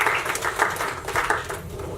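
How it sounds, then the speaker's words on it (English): A lecture class in physiology of domestic animals gives a short round of applause, a brief patter of clapping that fades quickly. "Let's do a round of applause."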